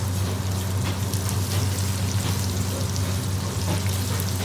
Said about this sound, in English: It's got a bit of water, that's why it makes that noise, because it's touching the oil